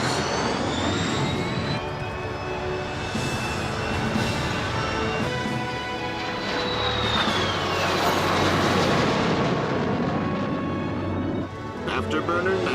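An Avro Arrow jet on afterburner gives a loud, continuous engine roar with a rising whine, steady throughout and briefly dipping near the end, while a voice talks over it.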